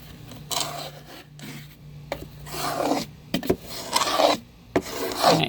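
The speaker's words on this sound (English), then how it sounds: "I use it in the boxes. And then I use it to scrape the corners." A tool scraping gunk from the corners of wooden chicken nest boxes: repeated rough, rasping strokes in short bursts, close and fairly clear, with brief pauses between scrapes.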